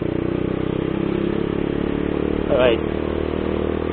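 Motorcycle with an aftermarket Acrophobic exhaust idling close by, a steady throbbing note with a brief rise partway through, while someone speaks briefly over it.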